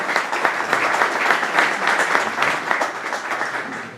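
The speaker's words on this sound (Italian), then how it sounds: "Che accoglierei con un applauso" Applause from an audience at a civic meeting welcoming a town mayor, a dense, lively clapping wash of many hands, steady and fairly loud for the whole stretch.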